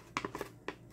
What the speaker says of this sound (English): So we're just going to cut that